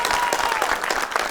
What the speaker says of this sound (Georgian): აქ ეხლა აპლოდისმენტები მიდის